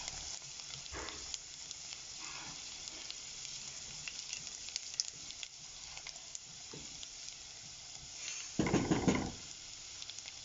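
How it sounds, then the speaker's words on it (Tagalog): Garlic and onion sizzle steadily in melted butter for a chicken macaroni soup, a continuous close frying hiss with soft stirring scrapes and a louder burst of sizzle near the end. "Nilagay ko na yung garlic."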